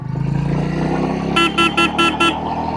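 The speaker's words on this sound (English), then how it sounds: "Very good sounding motorcycle." A Royal Enfield Classic 350 motorcycle engine rumbles at a steady idle, then five short, sharp horn toots sound in quick succession near the end.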